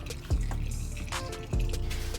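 Used motor oil drains from a car into an oil pan during a DIY oil change, a steady close liquid pour and trickle with a couple of low thuds.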